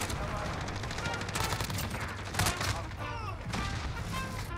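Rapid bursts of automatic gunfire from a Grau rifle in a video game, dense and continuous with overlapping shots, and voices talk over the firing.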